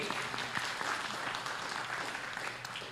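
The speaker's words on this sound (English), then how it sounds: "Please give a big applause for our event for today." Seminar audience in Jakarta claps at the opening of an international event, a dense, even patter of many hands filling the room throughout, moderately loud with no talking over it.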